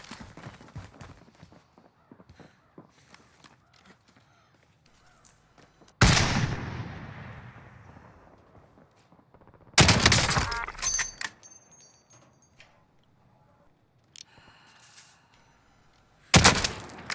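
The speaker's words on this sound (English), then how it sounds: "They're shooting at me!" Scattered gunfire bursts from Call of Duty: Modern Warfare team fighting, with three loud, sharp volleys standing out against quieter background noise and distant shots.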